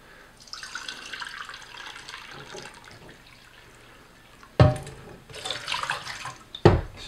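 Water running from a kitchen tap to measure 1.5 cups for whole-grain bread dough, a soft trickle at first, then two louder, splashy gushes near the end, close by with no speech.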